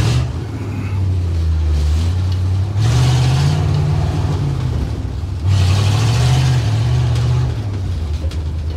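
A 1962 Ford C750 cabover truck pulls out of a driveway in first gear, its engine droning loud and close as the revs climb and dip twice.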